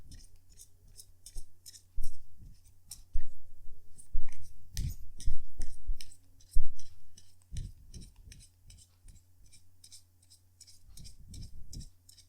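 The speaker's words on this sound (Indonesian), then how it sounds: "Jadi sebentar ya, kartunya dikocok dulu sebelum kita mulai." Tarot cards shuffled by hand give quick, crisp bursts of flicking and slapping, clustered in irregular rounds with short pauses between, close and fairly loud.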